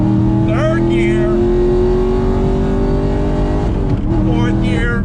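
A Chevrolet Camaro SS 1LE V8 revs hard up an on-ramp, its loud engine note climbing through a gear, then dropping briefly at a shift before pulling again, with someone talking over it.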